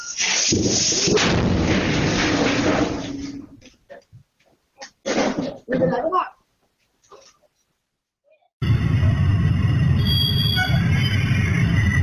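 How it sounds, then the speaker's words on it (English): A burst of heavy, booming blasts and crackling explosions from ammunition accidentally ignited during loading in Solapur, India, followed by a few scattered bangs, a short silence, then a loud sustained roar. "ammunition materials accidentally ignited during loading"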